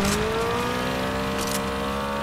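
A car engine in Fortnite hums and whirs with a steady, buzzy tone that wavers slightly, close and continuous over a couple of seconds, without speech.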